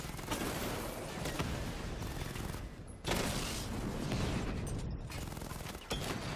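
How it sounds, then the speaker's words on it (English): Sustained bursts of enemy gunfire in the Arkham Knight video game, dense and continuous with overlapping rapid shots, loud throughout with brief dips around three and six seconds. "I'm used to them shooting faster, so I keep moving into their shots thinking they'll be done."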